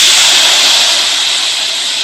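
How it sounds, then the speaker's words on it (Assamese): Finely chopped capsicum half-frying in hot oil for chilli fish, giving a steady, loud, close sizzling hiss that fades slightly toward the end. "এতিয়া মই ভাজিম কেপচিকাম, সৰু সৰু কাটি"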